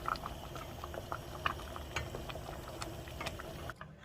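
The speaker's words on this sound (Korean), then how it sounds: "이렇게 한번 이제 끓어오를 때까지만 한번 끓여주면 됩니다." Curry with meat and vegetables bubbles steadily in a pot, giving a soft, continuous simmer broken by scattered small pops and plops, heard close up with no one talking.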